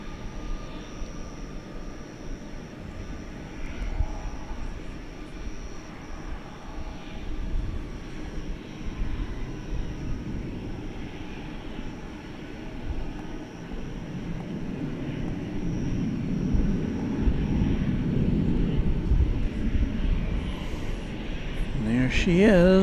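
A Singapore Airlines Cargo Boeing 747-400 at DFW Airport at night gives a low, distant engine rumble that grows steadily louder toward the end, with a voice talking over it.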